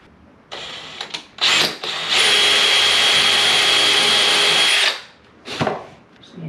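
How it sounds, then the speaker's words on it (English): A power drill boring a pilot hole in hardwood flooring: short test bursts, then a sustained high whine for about three seconds that stops abruptly, followed by another brief burst, close and loud. "Alright, so we're going to drill a pilot hole."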